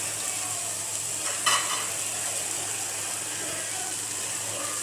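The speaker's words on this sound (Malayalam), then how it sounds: "ഉള്ളിയും കിഴങ്ങും ക്യാരറ്റും കൂടി നന്നായിട്ട് ഇളക്കി കൊടുക്കുക" Onion, potato and carrot pieces sizzle in a pan while being stirred, a steady soft frying hiss with a brief scrape of the spoon against the pan.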